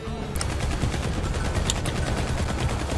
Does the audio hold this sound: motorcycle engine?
no